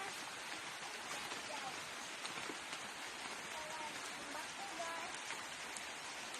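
Steady rain falls in a dense, even hiss on a banana farm and vegetable garden, with faint voices murmuring quietly in the background.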